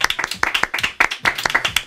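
Brief clapping for a contestant singer on a televised talent show, a few people's hands striking in quick, uneven bursts close by.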